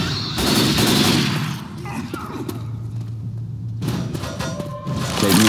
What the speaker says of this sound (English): I got the assault rifle.